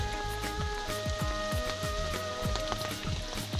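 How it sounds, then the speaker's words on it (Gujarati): Rain pattering steadily on a cotton farm field, a dense continuous hiss of drops with a faint tonal hum running underneath. "તો વરસાદ આવી ગયો."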